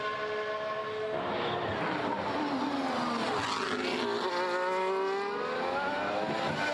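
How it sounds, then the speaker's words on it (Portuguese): Formula 1 cars running on the track during Bahrain Grand Prix practice, with high-pitched engine whine rising and falling as cars pass, heard steadily and moderately loud from a distance. "Estão na pista nesse momento o Sargent, o Alonso e os 2 carros da Alpine, o Ocon e o Gasly"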